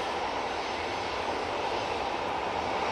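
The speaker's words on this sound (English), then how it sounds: "I just saw this prop coming in and I thought, let's have a bit of prop action" An ATR 72 turboprop airliner arriving at Manchester Airport gives a steady, faint, distant engine drone that holds even throughout.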